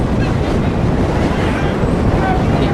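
Strong wind roars steadily across an open football pitch during a Middlesex Senior Cup final, a loud continuous buffeting rumble on the microphone with no break.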